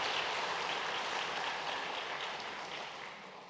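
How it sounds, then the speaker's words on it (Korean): Steady applause from a large church congregation during a Sunday service, a dense even patter of clapping that fades slightly toward the end, heard from a distance. "우리 위로하는 마음으로 다 함께 박수하겠습니다"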